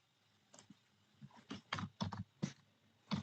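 Computer keyboard keys clack in short irregular bursts while Java code is written, close and fairly quiet, with brief pauses between clusters of keystrokes.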